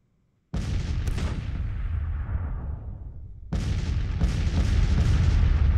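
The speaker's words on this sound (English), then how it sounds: "Our guns are firing." Artillery guns firing in a Grand Tactician: Civil War battle: a loud booming volley erupts, rumbles and decays over a few seconds, then a second wave of overlapping cannon blasts follows, dense and sustained, with no talk.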